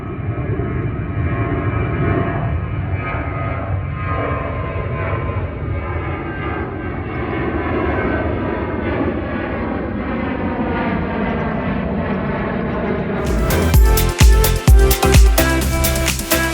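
Ryanair passenger airplane bound for Birmingham passing overhead, a steady broad engine roar sustained throughout, growing slightly rougher and louder near the end.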